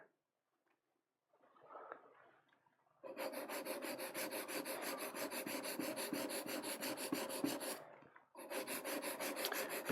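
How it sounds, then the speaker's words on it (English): Printmaking carving tools are being sharpened with a close, steady rubbing scrape. A brief faint rub comes first, then a long continuous stretch, a short pause and more scraping. "A bit late with the sharpening"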